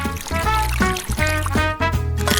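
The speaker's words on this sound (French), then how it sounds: "Maintenant, je vais verser le lait." Milk being poured into flour in a bowl, a continuous gurgling pour with bubbly, glugging pulses, close and fairly loud, no speech.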